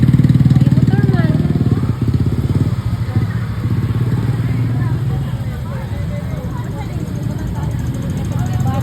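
A motorcycle engine runs close by with a steady, throbbing low idle that lasts the whole stretch, loud at first and then settling slightly, as people talk nearby.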